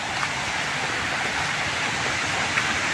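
Light drizzle falls over a backyard garden, a soft continuous hiss of fine rain, steady and even throughout with no voices.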